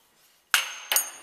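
A hammer taps the studs on a Daihatsu Sirion gearbox during a repair, giving two sharp, close metallic knocks about a third of a second apart, each ringing briefly.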